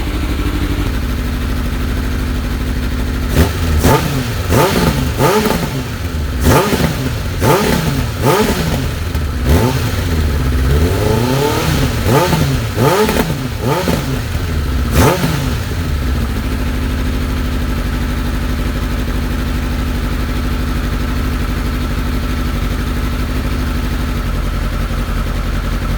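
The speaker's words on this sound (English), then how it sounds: "I'm going to give it a bit of a rev now." A Kawasaki Ninja ZX9R motorcycle engine idles loudly, then gets blipped in a quick series of sharp revs that rise and fall, before dropping back to a steady, close idle.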